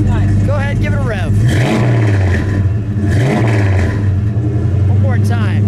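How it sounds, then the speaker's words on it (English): A 1967 Plymouth Belvedere GTX with a 426 Hemi V8 and four-speed revs outdoors, two strong throttle blips rising and falling over a loud lumpy idle, with a voice talking briefly over it. "Go ahead, give it a rev."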